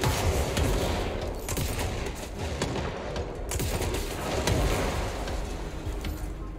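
Rapid gunfire in the video game Control, with dense overlapping bursts of shots that roll on steadily and loudly with no pause and no voices.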